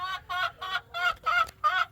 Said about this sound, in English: belligerent chicken notwithstanding